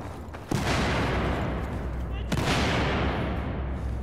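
Mortar fire in an online military shooter match: two heavy booming blasts a couple of seconds apart, each followed by a long rumbling roar filling the space, with faint voices underneath.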